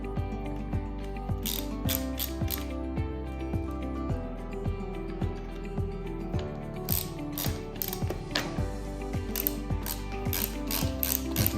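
A ratchet tightens the bracket screws of a Safari snorkel on a 2023 Toyota Hilux, clicking in close, rapid, repeated strokes with short pauses between runs.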